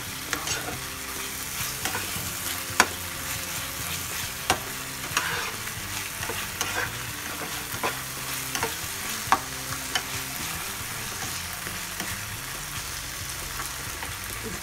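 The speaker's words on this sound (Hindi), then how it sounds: "इसमें हम प्रॉन डाल देंगे ताकि ये ग्रेवी में इसका पूरा टेस्ट आ जाए" Prawns simmer in an Indian masala gravy with a soft, bubbling sizzle while a spoon scrapes and knocks in a regular stirring rhythm, quiet and close, over faint background music.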